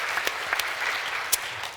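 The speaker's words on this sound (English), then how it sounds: "round of applause for Peter." An audience at a gardening and ecology panel claps for speaker Peter Korn, a short burst of dense, close applause with a few sharper claps standing out.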